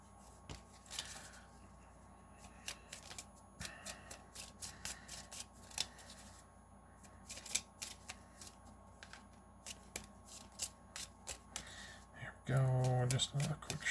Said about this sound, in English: just a quick shuffle here